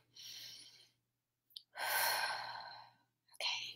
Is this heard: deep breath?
yes